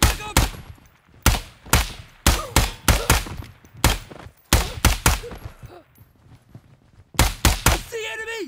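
Gunfire in the tactical shooter Ground Branch: loud bursts and single shots in rapid succession with brief pauses, close by, and a voice briefly audible near the end.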